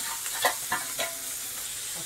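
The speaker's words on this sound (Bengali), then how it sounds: "লবণ হলুদ দেওয়া চিংড়ি মাছটা দেব," Prawns coated in salt and turmeric fry in a wok of oil with chopped onion and garlic, giving a steady close sizzle broken by a few short stirring scrapes.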